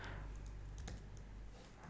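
A URL is typed on a computer keyboard in a quick run of faint, close key clicks over a quiet room hum, with no talking.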